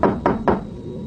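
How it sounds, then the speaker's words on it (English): Three forceful knocks on a window, close and sharp, spaced evenly about a quarter second apart, alone against a low background hum, used as a sound effect in a scary sleepover story. "suddenly another forceful knock came upon the window"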